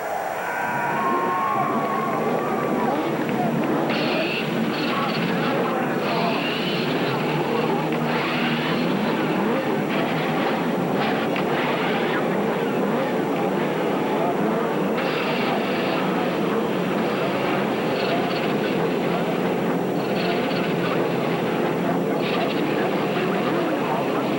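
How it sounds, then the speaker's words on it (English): Race car engines starting up for the 1992 Cleveland Grand Prix at the Burke Lakefront Airport circuit make a continuous, loud, steady roar with crowd noise mixed in. "Gentlemen, start your engines."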